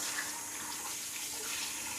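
Hot water runs steadily from a kitchen tap over frozen chicken thighs in a sink, a continuous broadband splashing rush that stays even and close throughout, with no voices.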